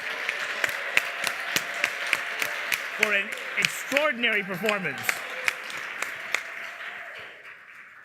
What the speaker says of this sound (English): all four debaters deserve your raucous applause